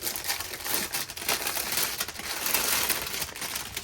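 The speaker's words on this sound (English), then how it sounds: "sorry about all the crinkling" Plastic packaging from a diamond painting kit crinkling and crackling up close in a continuous busy rustle of sharp crackles.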